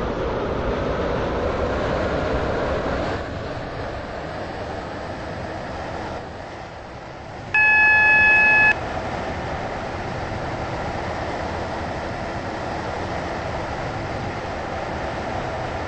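A steady rumble of a video game train running along the tracks, with a brief brighter electronic tone partway through.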